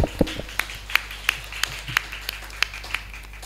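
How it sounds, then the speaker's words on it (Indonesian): A few scattered hands clap sparsely at a children's Quran recitation competition, producing a thin, irregular series of separate claps over a low background hum rather than a full ovation. "Beri tepuk tangan yang gemuruh."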